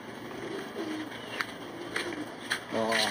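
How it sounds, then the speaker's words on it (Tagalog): Pigeons coo softly at a distance over a steady wash of background noise, with a few brief sharper sounds scattered through, in the rural Philippines. "Mabilis na ibon namin."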